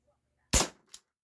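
A Gamo PT-80 air pistol fires one sharp, loud crack into a cardboard box packed with balled-up shopping bags, then a fainter pop follows and a third short hit comes at the end, with no talking.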